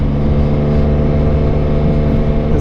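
An MV Agusta F3 motorcycle with an aftermarket exhaust revs in a steady, close, loud engine drone with a deep tone and no talking.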